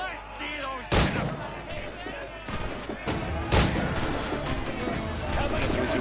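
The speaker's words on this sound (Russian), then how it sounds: "Для этого идиота требуется две пушки. Точнее, два выстрела." Cannon shots fired at enemies in the pirate-era video game Assassin's Creed 4 Black Flag: heavy booming blasts, with two stronger impacts standing out over continuous battle noise and rumbling.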